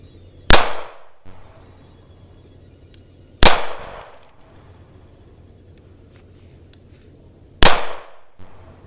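Three loud, sharp gunshots from a Sig Sauer 226 pistol firing 147 grain rounds at an outdoor range, spaced several seconds apart, each with a short echoing decay and quiet between the shots.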